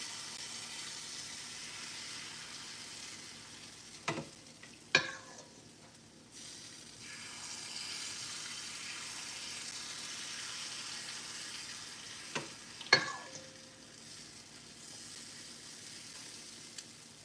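Vietnamese banh xeo crepe batter sizzles faintly and steadily in a hot pan, a soft continuous hiss broken by a few sharper bursts as more batter hits the pan.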